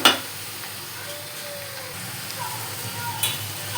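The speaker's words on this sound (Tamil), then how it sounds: "பீர்க்கங்காய் போட்டுட்டு எண்ணெயில் வதக்கலாம்." Ridge gourd sautéing in oil in a pan, giving a steady, soft sizzle with faint stirring and an occasional light clink, heard close and alone.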